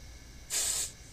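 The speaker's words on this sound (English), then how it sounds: "so I'm just going to spray it." Hairspray is sprayed onto curled hair in one short, close hissing burst lasting under half a second, with quiet room tone before and after.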